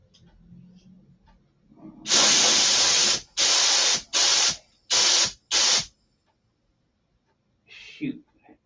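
A spray gun sprays clear coat onto paint during a repair on a Continental, in five sharp hissing bursts, the first one longer, followed by silence and a brief voice.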